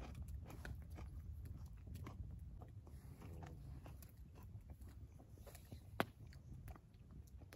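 Someone eats a meal with raw onions outdoors in a Swiss forest at dusk, with soft repeated biting and chewing sounds close to the microphone over faint ambient background and no talk.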